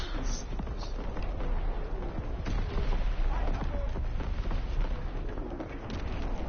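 Warship primary battery guns fire in a naval video game, a dense rumbling barrage of booms and blasts rolling continuously, with game voice callouts mixed in.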